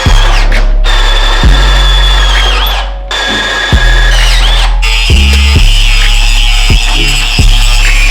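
A power drill bores a hole through metal for a truck bed mount on a Cummins-powered Ford Dentside pickup, loud and close, the motor whirring in several bursts with short pauses and restarts between them.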